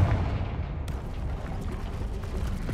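A Confringo blasting spell explodes in the video game Hogwarts Legacy, a loud booming burst that rolls into a sustained rumbling roar of debris and crackle filling the whole moment, with no talking.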